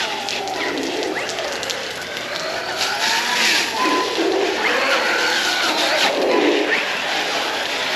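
An Arrma Outcast 4S RC car runs on a smooth outdoor basketball court, its electric motor whining up and down in sweeping pitch as it accelerates, brakes and turns, fairly close and steady throughout.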